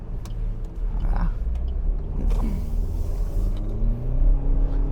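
A used 2021 Suzuki Swift 1.2 GLX eco car drives over a bridge joint, a steady engine and road rumble with brief thumps around the middle as the wheels cross, heard from inside the cabin without talk.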